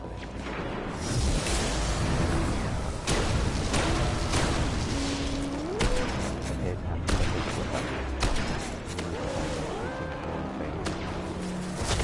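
Golden Gun ability in Destiny firing amid a chaotic firefight, with repeated loud weapon blasts, crashes and explosions over a throbbing game soundtrack.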